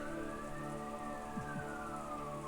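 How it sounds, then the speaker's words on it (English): A siren sounds outside, its wailing tone sliding slowly across the clip, faint and steady beneath a constant background hum, with no talking. "there's a siren, and I don't want to voice it"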